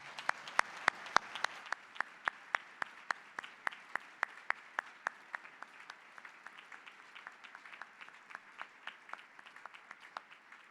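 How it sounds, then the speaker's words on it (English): Audience applause at a charter school innovation summit, thin and sparse with distinct individual claps in a loose rhythm, fairly faint and fading slightly, with no talking over it. "Let's give them a round of applause."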